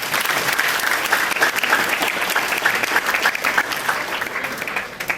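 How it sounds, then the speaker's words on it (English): Audience at a high school senior all-night party hypnotist show breaks into steady, dense applause for a volunteer, loud and sustained throughout before easing slightly at the end. "Let's give her a big round of applause."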